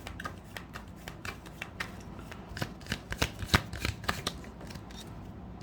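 Tarot cards shuffled by hand in a quick run of crisp riffling flicks and taps, close and fairly quiet with no talking.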